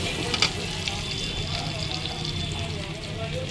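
Potatoes and onions frying in a pan for a fish and potato curry, a steady close sizzle and crackle with a few sharp stirring clinks near the start.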